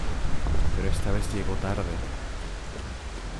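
Steady rain pours in the video game Eternal Hope, a broad hiss with low rumbling thunder underneath, while someone talks over it for a moment midway.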